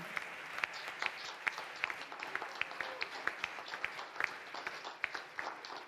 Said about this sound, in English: So we give a big round of applause to the whole team.